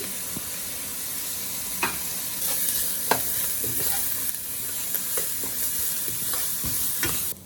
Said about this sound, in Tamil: இப்போது வெங்காயம், பூண்டு, ஜீரகம், மிளகு எல்லாம் கொஞ்சம் வதங்கி வாசனையாக இருக்குது.